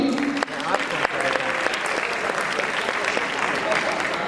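An audience at a cultural arts performance applauds the performers, sustained clapping with sharp individual claps standing out, a voice briefly audible under it.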